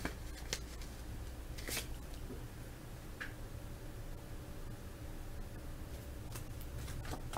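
Topps baseball cards from a wax pack are handled and slid against each other, giving faint, scattered flicks and rustles over a steady low hiss, with no talk.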